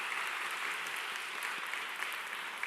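Steady, dense applause from a church congregation fills the room, continuous and even for a few seconds with no voices over it.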